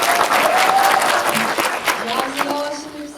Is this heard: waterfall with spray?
no